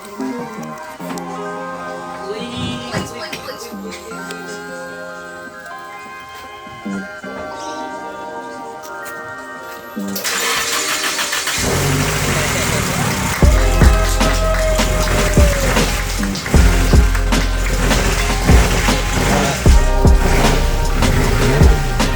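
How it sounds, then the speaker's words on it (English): A car engine cranks and catches after the key is turned, then runs loud and rough in the second half, following a quieter stretch with music-like tones. "The time has come to turn the key."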